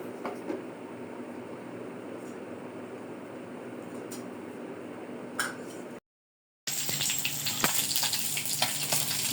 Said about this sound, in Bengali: এখন আমি মাছটিকে ভাজার জন্য চুলাতে কড়াইয়ে তেল দিয়ে তার মধ্যে দিয়ে দিয়েছি